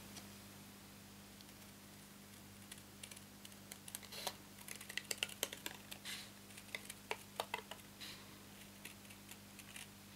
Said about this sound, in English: now we're going to cut on those two curved lines